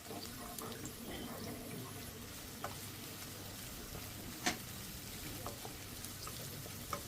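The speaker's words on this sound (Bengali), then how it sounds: "পেঁয়াজটাকে বেরেস্তা করে ভেজে নেব।" Chopped onions fry in oil for haleem, giving a soft, steady sizzle with a few sharp spatters and pops, fairly quiet and without talk.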